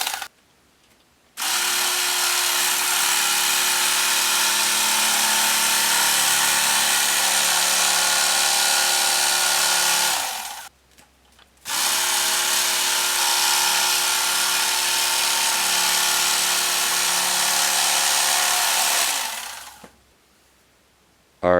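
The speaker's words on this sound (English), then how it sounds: "generally I cut out the profile with one of these electric knives" An electric carving knife slices through upholstery foam in two long, steady buzzing runs of about nine seconds each, separated by a brief pause, loud and close with no talking.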